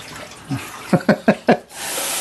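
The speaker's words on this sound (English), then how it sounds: "I love that so much water comes out, it just washes the rice on its own." Tap water pours onto rice in a small Japanese kitchen sink to wash it. A few splashy gushes come first, then a steady, fairly loud stream of running water close by.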